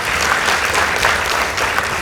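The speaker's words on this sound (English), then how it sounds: "Let's give them a round of applause." Sustained applause from a debate audience at a school semi-final, many hands clapping in a thick, even roar that stays loud and close from start to finish.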